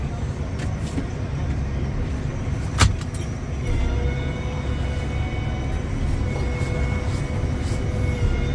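A bale processor runs steadily with two bales loaded, giving a continuous low mechanical rumble with a brief sharp clank near three seconds, all in cold outdoor feeding conditions.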